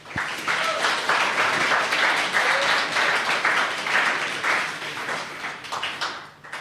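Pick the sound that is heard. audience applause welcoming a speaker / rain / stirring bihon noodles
audience applause welcoming a speaker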